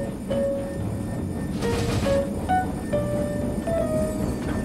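A Thomas toy train locomotive runs with a steady, close rumble, overlaid by sustained whistle-like tones that come and go across the clip.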